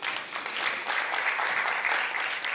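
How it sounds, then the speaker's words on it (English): An audience at a conference session on HIV and African communities claps steadily, a dense and even wash of applause that holds throughout without speech. "Please clap your hands."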